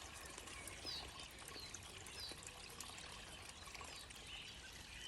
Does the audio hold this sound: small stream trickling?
yes